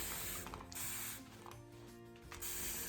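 A handheld misting bottle filled with water sprays in several quick, close hissing bursts, each accompanied by the mechanical click of the trigger, over about three seconds.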